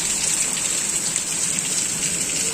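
Heavy rain pours down in a dense, constant roar during a storm with lightning, loud and close, with no voices.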